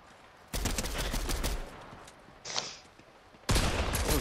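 Bursts of rapid gunfire from the Fortnite video game, loud and close, with a long first volley, a short softer burst and then another loud volley.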